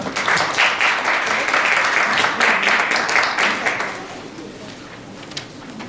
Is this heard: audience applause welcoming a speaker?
yes